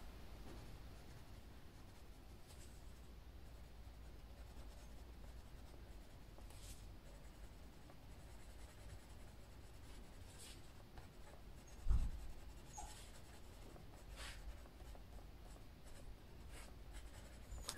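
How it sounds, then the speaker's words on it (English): Canary yellow colored pencil burnishing over a coloring page in small circular strokes, a soft, steady, faint scratchy rubbing that continues throughout, with one brief louder knock near the middle. "I'm just going to go over everything and just burnish it with this. Just using little circles."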